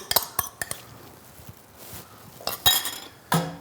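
Metal utensils clink and scrape against a bowl while pork belly is tossed with slaw, fennel, apple, onion and dressing. The sharp taps come in irregular clusters and stand out clearly, with no talking.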